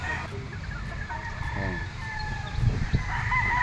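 Boston black gamecock roosters crowing at a gamefarm, with repeated calls rising over steady farmyard background noise and scattered clucking nearby.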